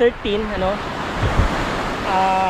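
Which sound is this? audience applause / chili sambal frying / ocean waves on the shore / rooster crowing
ocean waves on the shore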